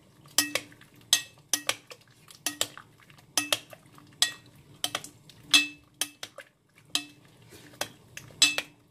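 A spoon clinks repeatedly against a bowl while a mixture for couscous is stirred, about a dozen sharp, close metallic knocks in an uneven rhythm with no talk.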